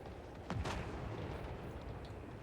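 Artillery fire in a Total War battle, with a couple of sharp booming blasts close together followed by a low rumbling battle din and faint distant impacts.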